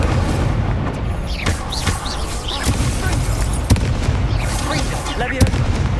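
Incendio fire spell cast during combat in Hogwarts Legacy, a sharp burst over a dense, noisy battle bed with several impact hits and whooshes, with brief spell-shouting voices.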